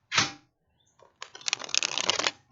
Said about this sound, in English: ruffle shuffle a little bit.